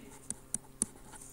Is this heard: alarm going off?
no